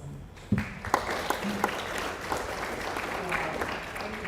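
Applause for a speaker at a Tanzanian energy conference, starting with a few sharp claps and swelling into steady clapping from the audience, moderately loud.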